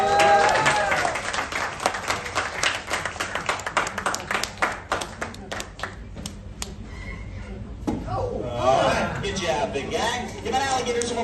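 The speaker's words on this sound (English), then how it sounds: "that alligator some applause." Audience applause at an alligator show, steady clapping from a crowd that carries on for several seconds and then tails off, with voices rising over it toward the end.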